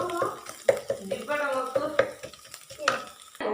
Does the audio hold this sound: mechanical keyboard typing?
no